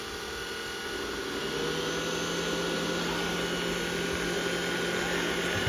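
A Xiaomi Mijia robot vacuum cleaner 2 runs on its standard setting, giving a steady, close whirring hum with a faint high whine that holds even throughout, with no talking.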